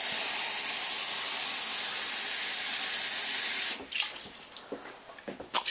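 Water runs steadily from a tap or is poured for boiling potatoes, a continuous hissing flow that gives way to splashy, uneven pouring and trickling near the end; no one talks over it.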